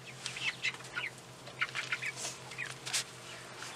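Delaware chicks peep and cluck in short, bright bursts outdoors on their first trip from brooder to run, scattered calls repeating close by over a faint low hum.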